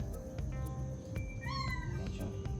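House cats give several close, drawn-out meows with rising and falling pitch over a low background hum, and no one speaks.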